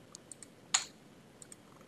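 Quiet computer keyboard key presses while deleting text: faint scattered taps with one sharper, louder keystroke near the middle.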